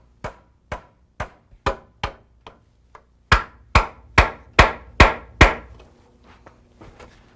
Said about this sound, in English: This box nailed into the side of the joist.